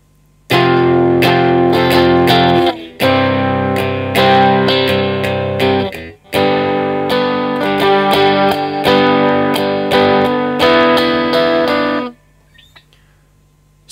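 Strummed guitar plays the chorus of a song, loud and close with steady downstroke chords in two long phrases, brief gaps between them, then ringing out.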